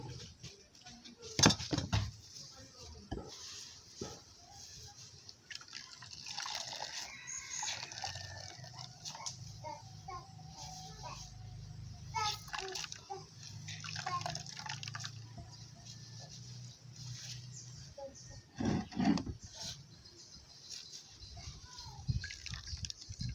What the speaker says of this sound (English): I'm going to sieve the coconut.